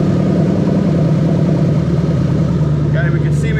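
Toyota 1UZ-FE V8 engine idling steadily with a low, even rumble, close and loud throughout, with a few faint higher sounds near the end.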